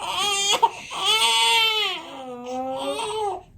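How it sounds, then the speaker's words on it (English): A baby cries in long, wavering wails with a short catch between them, close and fairly loud, with no other voices. "What are you crying for, baby?"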